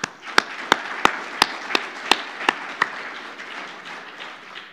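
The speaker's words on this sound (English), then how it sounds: "Have a big round of applause for Warren, Simon, both Sams and Kaitlyn" Sparse, evenly spaced hand claps at a conference session ring out over a hum of room noise, about nine sharp claps fading in strength toward the end, with no voices.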